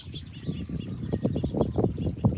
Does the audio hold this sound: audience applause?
no